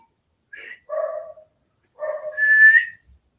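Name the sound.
dogs barking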